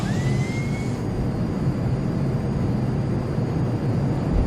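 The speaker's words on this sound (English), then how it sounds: "I'm going to give it full afterburner on this takeoff." An F-15 jet in the FSX flight simulator on a full-afterburner takeoff, a loud steady roar that fills the whole stretch. A thin rising whine comes in at the start, and no one speaks.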